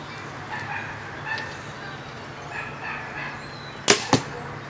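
An arrow shot from a bow at 20 yards strikes the target as two sharp, close cracks in quick succession near the end, after a stretch of quiet outdoor background.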